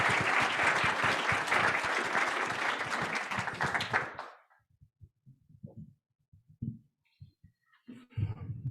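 Rotary club meeting audience gives a presenter another round of applause: dense, loud clapping for about four seconds that stops abruptly, followed by scattered quieter room noises and murmurs.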